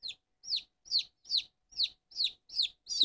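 Barnevelder and Dorking chicks give a steady series of eight high, evenly spaced peeps, close and clear against a quiet background.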